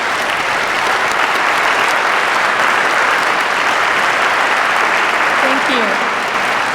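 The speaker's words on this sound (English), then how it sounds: "Please give him a round of applause." Sustained audience applause fills a ceremony hall at a Korea-US alliance anniversary event, steady and loud throughout, with a brief spoken thanks near the end.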